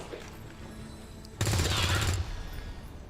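Video game gunfire breaks out as a sudden, loud burst of rapid shots lasting under a second, set against quieter game background sound.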